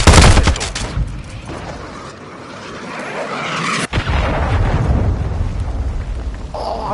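Grenade blasts and rattling gunfire from a military shooter game, with a loud burst at the start, continuous crackling fire, and a sharp explosion midway followed by sustained roaring combat noise.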